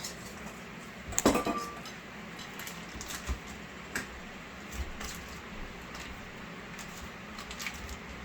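A spoon clinks against a glass while stirring sugar into a rum-laced dessert mix, with a brief burst of rapid metallic tapping near the start and occasional faint clicks afterward over a quiet kitchen background.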